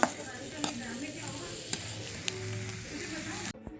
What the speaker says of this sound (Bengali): এরপর কিছুটা পরিমাণ ধনা পাতা অ্যাড করে আরেকটু ভেজে নিচ্ছি